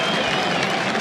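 Cricket crowd at Edgbaston during an England v Australia Ashes Test, a dense, steady wash of cheering and applause filling the whole second, broad and sustained with no quiet gaps.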